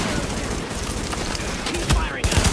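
Rapid gunfire fills a firefight in The Division, set in Manhattan, with dense overlapping bursts and booms throughout and shouted voices mixed in.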